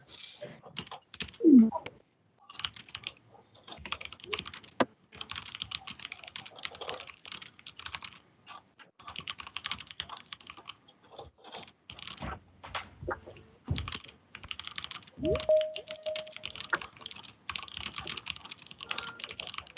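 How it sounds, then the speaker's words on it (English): Continuous clatter of keys on a loud computer keyboard during a virtual online meeting, steady irregular tapping close to the mic, with brief faint voice sounds in places. "Sorry, I got a noisy keyboard."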